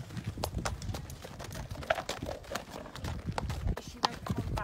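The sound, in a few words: horse hooves clip-clopping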